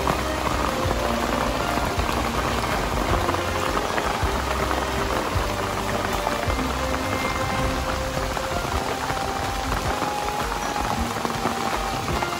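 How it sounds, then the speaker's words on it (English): Heavy rain falls steadily on a forest along a mountain hiking trail in the Albanian Alps between Valbona and Theth, a dense, constant patter close by with no talking. "So now it's raining as forecasted."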